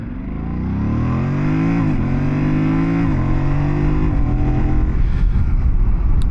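A Yamaha Tenere 700 (T7) motorcycle engine revs up loudly and steadily, its pitch climbing through the gears with brief dips at each shift, close and continuous with no talk.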